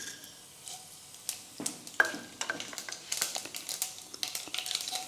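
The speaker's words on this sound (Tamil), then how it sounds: "எண்ணெய் சூடாயிருச்சு. கொஞ்சம் கடுகு போட்டுக்குவோம்," Mustard seeds and cumin sizzle and pop in hot oil for a Tamil oats kichadi, sharp crackles bursting irregularly over a quiet hiss, growing busier toward the end, with no voices.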